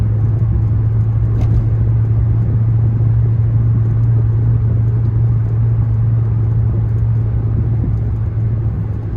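A 2000 Jaguar XJR cruising on the I-84 interstate, heard from inside as a steady, loud low engine and road drone with a constant hum and tire rumble, no talking.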